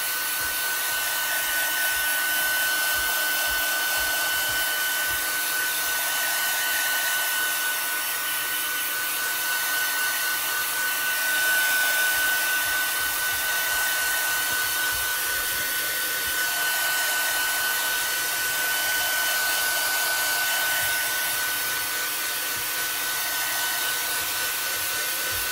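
A heat dryer blows in a steady, loud whoosh for about 25 seconds with a thin whine on top, drying a matte papercraft scene of a house mouse.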